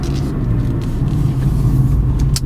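The 4-cylinder engine of a 2009 Chrysler PT Cruiser wagon accelerates with a loud, throaty, rumbling drone heard from inside the cabin, steady and unbroken over a short stretch.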